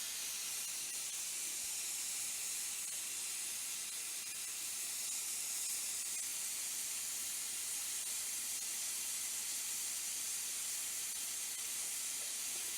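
Steam hisses steadily from a pressure cooker whistle on a stovetop while pumpkin curry cooks, a loud, unbroken rushing sound that holds for the whole stretch with no talk.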